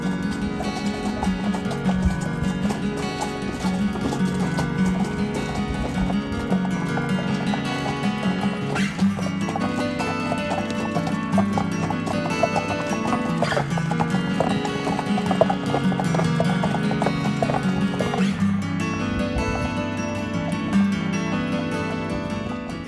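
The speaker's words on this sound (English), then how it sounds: "when the horses arrive in Mackinac Island, the first batch for the season" Horses arriving on Mackinac Island for the season, their hooves clip-clopping steadily on pavement in a continuous, moderately loud rhythm with occasional clanks and faint background voices.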